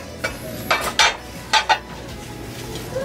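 Plates clink and clatter as they are handled, several sharp ceramic knocks in quick irregular pairs close by, with no talking.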